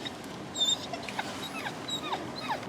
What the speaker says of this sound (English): we got a crying pup